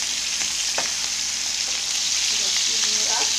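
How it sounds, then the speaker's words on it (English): Shrimp fry in a pan with a steady, loud broadband sizzle throughout, a few faint clinks or stirs scattered across it and no talking. "I'm going to fry this"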